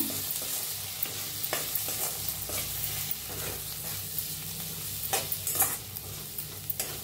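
Coriander powder and garam masala are dry-roasted and stirred in a pan for an onion dal. A steady close sizzle runs throughout, with soft scraping strokes of the spoon and no speech.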